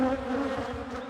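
Honeybees buzzing close around a hive box during a spring inspection, a steady dense drone with shifting pitch that holds throughout the short clip, with no talking.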